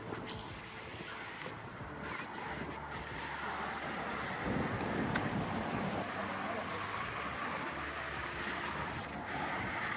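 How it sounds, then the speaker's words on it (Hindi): Strong wind by clear water in Geneva, Switzerland, produces constant rushing and microphone buffeting that grows slightly stronger over time, with faint voices underneath. "हवा बहुत तेज है गाइस।"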